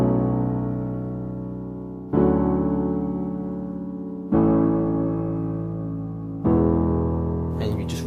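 Solo piano plays the chorus of a song as four sustained chords, each struck about every two seconds and left ringing as it fades, close and clear with no talking.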